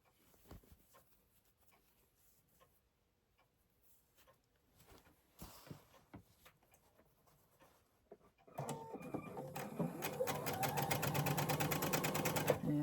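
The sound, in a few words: sewing machine sewing across the lining opening of a bag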